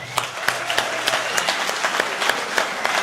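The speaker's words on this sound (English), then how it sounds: "Let's give that a big round of applause." A convention audience gives a lunch break a big round of applause, with loose, uneven clapping and distinct individual claps popping out near the microphone over the general patter.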